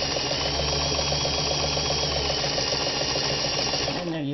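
Vintage Singer 223 sewing machine running steadily through a blind stitch pattern, a loud, fast, even mechanical whir and rhythmic needle clatter that winds down near the end.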